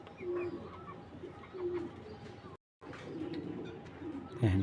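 A racing pigeon coos in soft, repeated low bursts indoors, with a brief silent gap partway and quiet background chatter around it.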